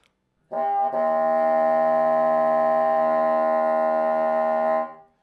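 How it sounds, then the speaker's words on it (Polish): A single sustained brass tone with a rough, buzzing multiphonic quality holds steadily for several seconds and then stops. "ten wielodźwięk brzmi mniej więcej tak."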